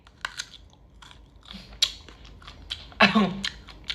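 Someone bites into and chews a crunchy, sweet snack close up, with a few sharp crunches and crackles scattered over a few seconds and one louder crunch near the end.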